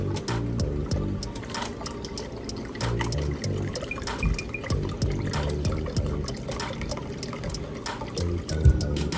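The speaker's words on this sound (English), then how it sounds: "we are using beef broth. I'm gonna do about 4 cups." About four cups of beef broth poured into a pan for mushroom and onion gravy over hamburger steaks, a steady close trickling and splashing stream running throughout with a faint clink near the end.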